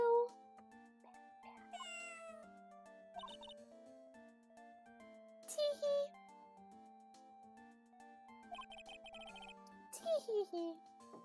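A cat meows in the Ace Attorney video game, with several short cries over soft game music and chimes while people talk.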